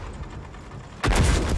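A World of Tanks tank cannon fires once partway through, a sudden loud booming blast that rings out over low in-game engine rumble.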